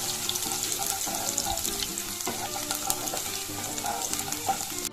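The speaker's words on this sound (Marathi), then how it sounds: "लसूण टाकून मस्त त्याला हलवून घेऊया मधात मिक्स करूया ठीक आहे तेलामध्ये चांगलं फ्राय होतो लसूणाला" Garlic fries in hot oil for dal tadka with a dense, constant crackle and sizzle. Stirring and the clink of a utensil against the pan come through close and fairly loud. No voice is heard.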